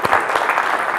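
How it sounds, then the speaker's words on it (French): Audience applause at a French conference talk on agile leadership, a dense, steady patter of many hands clapping together for about a second, fairly loud and with no talking over it. "je pense qu'on peut l'applaudir"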